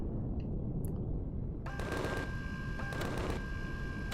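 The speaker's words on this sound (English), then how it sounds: "This guy's definitely shooting at me." Enemy gunfire in the Empyrion space game, faint bursts of rapid shots with one louder sustained volley in the second half over a low rumbling background.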